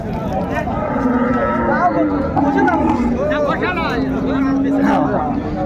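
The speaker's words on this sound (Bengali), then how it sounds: "গাভী বাছুর" A cow with her calf moos repeatedly at Raniganj cattle haat, the calls loud and close over a constant hubbub of bargaining voices and crowd chatter.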